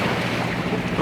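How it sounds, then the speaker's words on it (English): Ocean waves lap against the shore on Grand Cayman in the early morning, a steady broadband wash mixed with wind rumble on the microphone, with no voices. "Hopefully you guys can hear the waves lapping against the shore down there."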